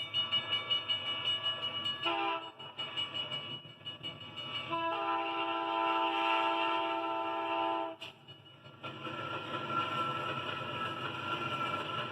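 Amtrak Southwest Chief passenger train led by a GE-built P-42 locomotive, with a loud sustained horn blast heard up close over steady rumbling engine and rail noise, the horn sounding in long repeated stretches.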